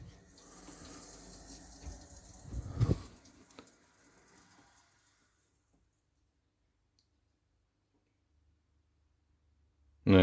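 Water rushing through a combi boiler's heat exchanger as a valve is opened to pressurise it, a hissing flow that swells briefly, fades to near silence, then ends with a sudden loud knock.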